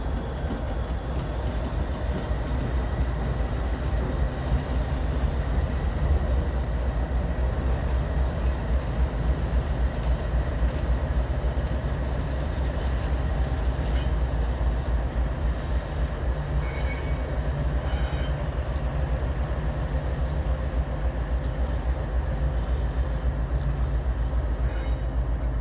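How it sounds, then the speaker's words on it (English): CSX M693 freight locomotives work through pickups on the CSX Belton sub in Spartanburg, SC, giving a continuous low engine rumble with rolling car noise and a few brief high wheel squeals over about twenty-five seconds. "I would get some footage of the power of CSX M693 making some pickups on the CSX Belton sub"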